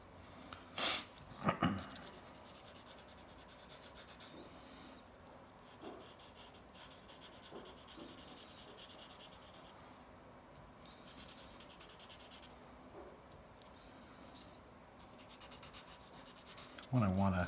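A pencil shading dark marks on drawing paper, continuous close scratchy rubbing strokes with brief louder bursts near the start and end, soft and steady in between.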